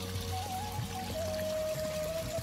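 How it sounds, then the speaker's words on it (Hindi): Irrigation canal water in a village in Uttarakhand flows and gurgles steadily and close by, a continuous rushing babble with no voices over it. "नहर में जो पानी कलकल बह रहा है"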